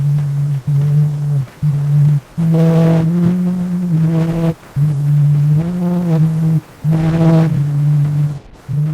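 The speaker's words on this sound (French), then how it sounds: "c'est le premier son jamais enregistré" A crude, buzzy early phonautograph recording of a sung melody, among the first sounds ever recorded: a series of held pitched notes broken by brief gaps, heavily muffled and distorted with steady hiss.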